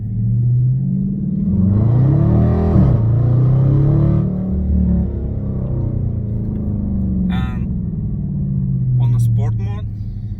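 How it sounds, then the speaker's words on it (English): Loud, deep rumble of a Dodge Challenger or Cadillac Escalade with a muffler-delete exhaust, a low throaty drone holding steady for about ten seconds with a rising rev near the start, while people talk over it. "This car sounds so beautiful."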